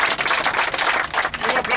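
Audience applause for Jesus Christ at a Zona Norte and Zona Sur gathering, a dense, steady wash of many hands clapping close by for nearly two seconds with no pauses.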